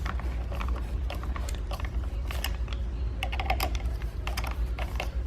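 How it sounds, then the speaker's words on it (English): Quick ratcheting clicks and ticks come in scattered bursts over a low steady hum as fasteners on a Yakima BaseLine roof rack are tightened by hand, close up. "it's a combination of tightening this fastener and this fastener one after the other until you get everything fully secured"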